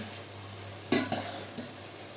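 Boiling water pours into a hot pan of rice and peas with a sudden hissing sizzle, followed by a second burst and fading bubbling crackle.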